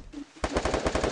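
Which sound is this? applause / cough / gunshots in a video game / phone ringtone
gunshots in a video game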